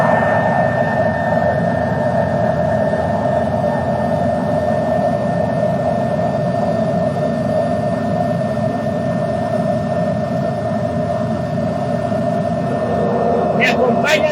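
A helicopter drones steadily and loudly overhead for the whole stretch, a constant engine roar with a sustained whine layered on top. Faint speech may sit beneath it.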